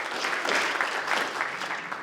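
Attendees at a homeowners' annual meeting give a short round of applause for the maintenance directors, a dense, moderately loud patter of many hands clapping at once that stays steady throughout.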